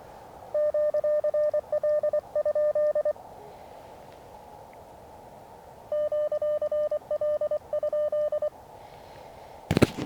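Ham radio CW sidetone keyed on 14.061 at a portable station, two bursts of rapid Morse dots and dashes in a clear steady tone separated by a pause, ending with a brief clunk.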